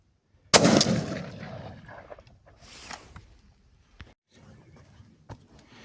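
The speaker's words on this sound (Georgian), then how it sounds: "ეხლა ვესვრით ცილინდრით, ანუ 5 ხაზით" A single loud 828U shotgun blast fired through a cylinder choke with No. 4 shot at a target 40 metres away, a sharp close report that decays quickly, followed by faint rustling and handling noises.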